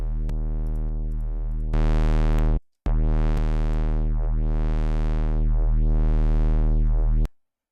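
A distorted drum-and-bass notch bass built in Serum 2 holds thick sustained low notes while a sweeping notch filter rises and falls in repeating arcs, broken by one brief gap, loud and alone.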